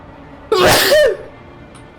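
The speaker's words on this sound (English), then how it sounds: "I want to sneeze again, damn it." A single loud human sneeze bursts out in a quiet room, a sharp half-second explosion followed by silence and a faint breath.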